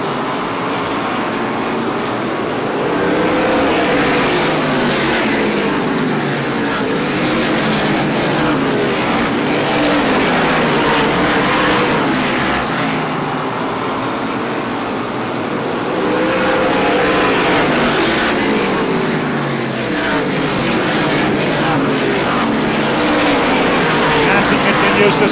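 Race cars roar side by side at Star Speedway, engines droning continuously and swelling in Doppler-like passes, with a commentator talking over the track noise.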